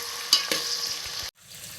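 Onions and tomatoes fry in a pan with a steady broadband sizzle, a couple of sharp stirring clanks near the start and a brief cut before the frying resumes, no one speaking.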